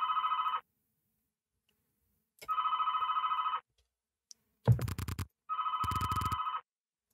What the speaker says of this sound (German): das verdammte Telefon ist ruiniert die Atmosphäre